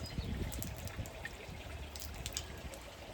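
Faint running water rinses out a small pool chemical test vial, a soft continuous trickle and splash with a few light clinks, quiet and close.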